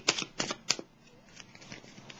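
Tarot cards drawn and set down during a reading: a few quick, crisp papery slaps and rustles close up in the first second, then softer faint shuffling handling that trails off, with no voices.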